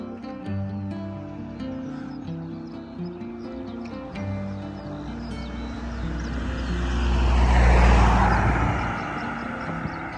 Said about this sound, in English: 2 cars came in opposite directions and some bikes all at the same time